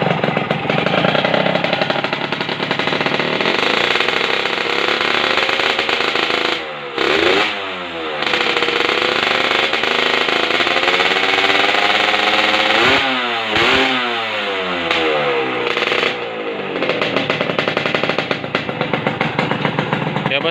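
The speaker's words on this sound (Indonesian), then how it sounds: "Berisik ya. Halus ya bos kalau di bagian mesin." A motorcycle engine with an upgraded KIS cylinder block runs steadily and loudly at close range, with a couple of brief revs rising and falling; no one talks over it.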